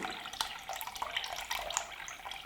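Jasmine green tea infusion, about a quarter litre, poured into a container bound for the freezer, giving a steady splashing liquid stream with small gurgles, close and fairly faint, with no talking.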